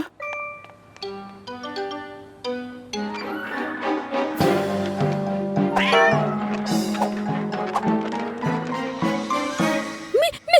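An animated cartoon cat meows and yowls repeatedly over bright children's cartoon music with chimes, from the Hindi Morphle series.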